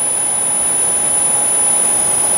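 A turbojet engine mounted on a surfboard, one engine known to stall when throttled, roars with a loud, steady jet whine and a high tonal hiss, close and continuous with no talk.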